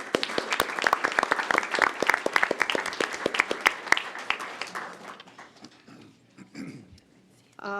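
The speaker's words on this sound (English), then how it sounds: "So let's applaud for them anyway." Audience applause at a school board of trustees meeting, dense clapping from a seated crowd for about five seconds, then thinning to a few scattered claps and quiet room noise.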